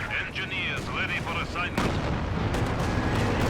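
A sniper counter-snipe gunshot in a 2v2 qualifier video game match: one sharp, loud report lands midway, followed by rumbling battle noise, with commentators talking over the first half.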